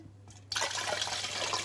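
Water pours into a container for a homemade antibacterial spray, a sudden close splashing gush that starts after a brief quiet moment and runs on steadily.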